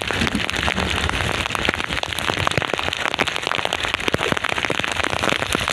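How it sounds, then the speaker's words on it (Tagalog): Heavy monsoon downpour pounding onto a small boat at sea during a low-pressure storm, a dense, loud, continuous roar with sharp crackling drops and splashes throughout. "Parang binubuhos ang ulan."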